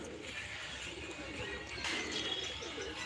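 Domestic pigeons cooing and calling outdoors on the first flight day of the season, a steady faint murmur of birds with soft wing sounds, no talking.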